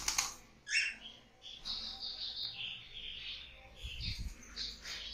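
White Java sparrows chirp in the room where they are kept, giving short, bright tweets and calls. The calls come at a moderate distance at low volume, with no talking over them.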